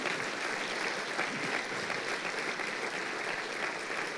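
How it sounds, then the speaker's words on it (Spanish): Church congregation claps steadily and evenly, a dense, continuous wash of applause heard at moderate distance with no break. "Denle un aplauso al Señor."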